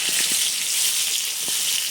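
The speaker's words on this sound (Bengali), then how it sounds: "প্রথমে পটল দিয়ে দিচ্ছি, পটল দিয়ে হলুদ দিয়ে দিচ্ছি সামান্য, নেড়ে চেড়ে এবারে পটলটা ভেজে নেব" Pointed gourd frying in oil with a little turmeric, a steady dense sizzle throughout with a few soft stirring knocks, close and continuous with no talk.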